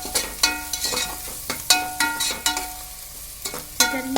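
Cabbage and dal curry ingredients frying in a pan, with repeated sharp stirring scrapes at an uneven rhythm over a steady close sizzle; a voice speaks briefly.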